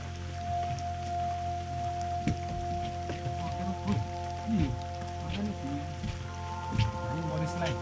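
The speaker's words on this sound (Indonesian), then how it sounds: "Hujan terus," Rain falls steadily on a mountain trail on Mount Semeru via Ranu Pane in the rainy season, a constant patter with scattered drips, while faint voices murmur in the background.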